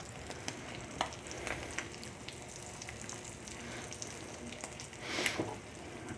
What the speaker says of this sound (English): I'm going to just hold this a little flat here so this fish has a chance to cook.